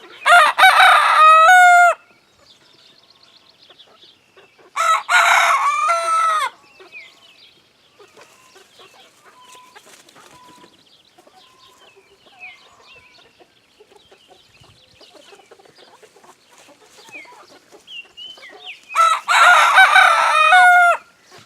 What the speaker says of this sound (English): We're having a cock-a-doodle-doo contest over here.